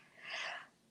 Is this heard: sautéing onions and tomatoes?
no